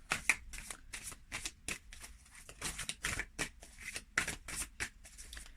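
Angel cards are shuffled close up in a steady series of soft, rapid riffles and flutters, each burst separated by brief gaps, quiet and alone.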